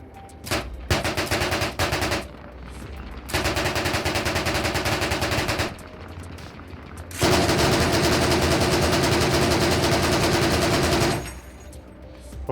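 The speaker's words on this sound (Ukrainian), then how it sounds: "Бурак стріляє з міста, з міста, по полю." Long bursts of rapid automatic gunfire crackle loudly in Arma Reforger, broken by short pauses, the last burst running several seconds without letting up.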